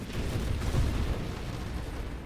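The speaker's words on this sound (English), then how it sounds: "Ooh, big explosions." Big explosions from the space shooter game Nova Drift, a dense, low rumbling roar of booms and blasts rolling continuously at steady loudness with no talk over it.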